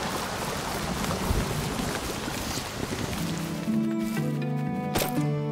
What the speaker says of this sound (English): Ah, the rain has stopped.